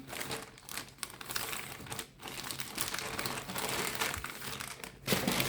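Plastic packaging crinkles and rustles continuously while a seamless wireless bra is unpacked, loud and close, with irregular crackling bursts and brief pauses, and no talking.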